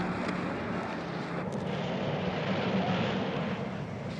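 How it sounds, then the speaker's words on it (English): A private jet taking off makes a continuous, fairly loud broadband roar that holds steady throughout, with no voices. "on Dr. Romero's plane, and it's taking off"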